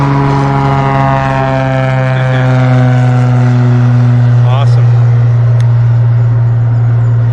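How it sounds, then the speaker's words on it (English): A propeller floatplane takes off from Mattis Lake, its engine a loud, steady droning hum heard from the dock that stays strong and slowly shifts in pitch throughout, with no talk. "got plane taking off here"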